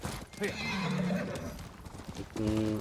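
Horse hooves clip-clop in the video game Ghost of Tsushima, along with neighs and whinnies, a new mount moving at a steady rhythm over a continuous game soundscape.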